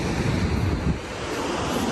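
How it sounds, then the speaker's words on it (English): Pacific Ocean waves wash on the shore in a continuous roar of surf with heavy wind buffeting the microphone, loud and close with no voices. "We made it to the Pacific Ocean."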